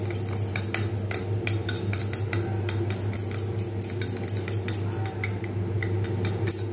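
Two eggs beaten with turmeric and salt in a bowl, the utensil clinking rapidly and rhythmically against the sides in a steady, close run with no pauses.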